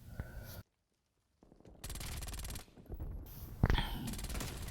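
Bursts of rapid MAC-10 submachine gun fire from Black Ops Cold War multiplayer crackle in short strings separated by gaps of near silence, with a louder burst near the end.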